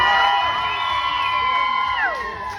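An event crowd cheers and whoops loudly with rising shouts, a dense sustained roar of voices throughout, with light applause mixed in.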